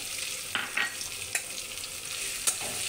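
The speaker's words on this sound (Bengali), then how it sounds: "দিয়ে এটাকে ভালো করে নাড়িয়ে চালিয়ে ভেজে ভেজে নেবো" Chopped onion frying in hot oil for a bottle gourd and crab dish, a steady bright sizzle with a few scraping stirs of a spoon in the pan, close up.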